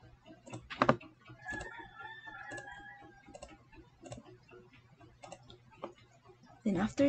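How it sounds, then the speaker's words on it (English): Clicky keystrokes on a computer keyboard tap out in irregular bursts, fairly close, while a voice talks over parts of the typing. "Then after that, you can start typing words."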